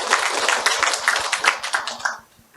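A congregation at a temple dharma service celebrating a new temple opening claps in a quick, regular rhythm, a close burst of hand claps that ends abruptly after about two seconds.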